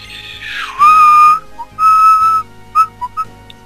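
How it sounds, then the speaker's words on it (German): A person whistles a short tune in clear, piercing notes: two long held tones, then several quick short chirps, close and alone with no talking. "Wieso pfeifst du?"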